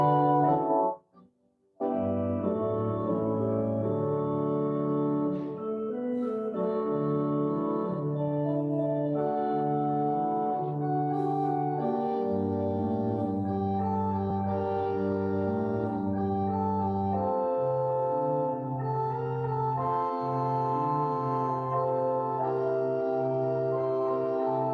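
An organ plays a fully realized bridge passage with right-hand triads over a bass line, sustained chords moving steadily and filling the space after a brief pause at the start.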